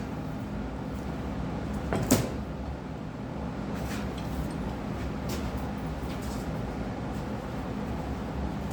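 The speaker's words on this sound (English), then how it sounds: "So I'm putting on these two clamps here." Clamps going onto a wooden boat plank during garboard installation: one sharp wooden clack or knock, then faint taps and creaks over steady low room noise, near, with no speech.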